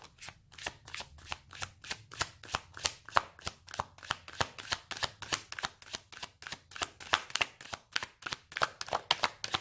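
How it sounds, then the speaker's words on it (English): A deck of cards is riffled and bridged over and over at close range, each burst of rapid flutter followed by a short pause in a steady repeating rhythm, with no voices. "Maybe I'm going to have to pull one more from that deck."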